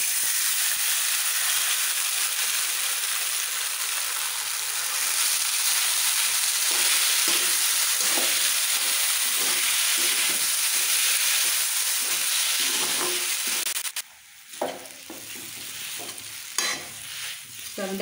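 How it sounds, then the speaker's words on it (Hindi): Sago pearls roast in ghee in a kadai over a low flame, giving a steady close sizzle and hiss with soft scraping stir strokes throughout, which briefly quieten near the end. "साबूदाने को हमें लो फ्लेम पर 1 मिनट के लिए भून लेना है।"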